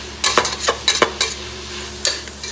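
Beans, onion and mixed vegetables being sautéed in a pan for chicken biryani: a run of sharp spatula scrapes and stirs, close and fairly loud, over a faint steady sizzle.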